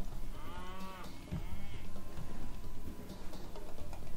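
A cow in Age of Mythology Extended Edition moos with drawn-out calls while being killed, over a steady wash of game ambience and scattered effects.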